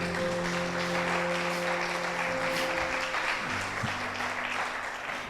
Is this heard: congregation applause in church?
yes